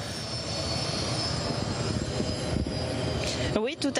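A military Airbus A400M Atlas transport aircraft arriving at Le Bourget airshow, its broad engine roar filling the scene steadily and loudly, with a few louder mechanical bursts near the end.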